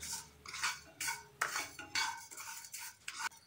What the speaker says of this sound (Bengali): আঁচটা কমিয়ে ভাজা মশলা তৈরি করে নিতে হবে, কন্টিনিউ নাড়তে হবে যাতে নিচ থেকে পোড়ানা লেগে যায়।